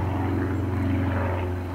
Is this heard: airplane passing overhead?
yes